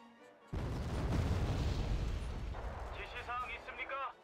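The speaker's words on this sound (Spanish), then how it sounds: "Tienen un montón de artillería" Artillery fire in the war strategy game Wargame Red Dragon: a sudden heavy boom gives way to a long rumbling barrage of blasts, loud and dense, with raised voices talking briefly near the end.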